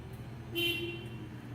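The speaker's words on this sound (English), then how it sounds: "Always honk your horn to make sure everybody around you can hear that you're coming" A single short forklift horn toot, fairly loud and nearby, over the forklift's steady low engine rumble.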